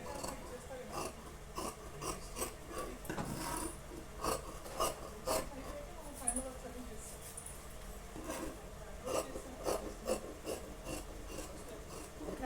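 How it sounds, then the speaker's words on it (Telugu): Scissors snipping through blouse lining fabric in repeated rasping cuts at an uneven pace, close up, while someone talks throughout. "క్రాస్ కటింగ్ కంప్లీటెడ్ అండి. ఇలాగా ఓకే ఇలా కట్ చేసుకుంటే సరిపోతుంది."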